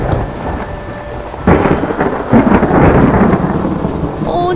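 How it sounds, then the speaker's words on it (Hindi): Heavy rain with thunder in a Hindi animated story. After a quieter opening, a loud downpour crashes in with a deep rolling thunder boom, and dense close rain keeps pounding to the end. "ओ नहीं, इतनी तेज बारिश।"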